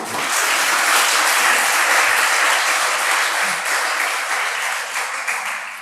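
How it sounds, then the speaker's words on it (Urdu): An audience at a trust's scholarship ceremony at a college applauds the trust's president, with dense, steady clapping that holds loud throughout and tapers slightly at the end. "ڈاکٹر خواجہ کمال ناصر کے لیے تالیاں"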